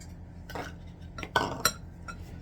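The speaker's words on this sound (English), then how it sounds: "And then just stir it in with the fork." A fork stirs milk into biscuit dough in a bowl, giving a few soft scraping swishes and light clinks of metal against the dish, close and fairly quiet with no talking.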